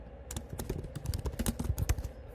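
Rapid keystrokes on a computer keyboard come in an irregular burst of close, crisp clicks, with no voice over them.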